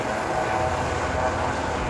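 Coast guard helicopter hovering over the sea during a rescue winching at a Langkawi display, a continuous dense rotor and turbine roar, steady and loud without pause.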